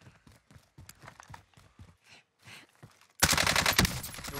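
AA-12 shotgun fire in the video game Warzone: a run of short, spaced bursts, then a loud, dense volley of rapid shots that keeps going to the end.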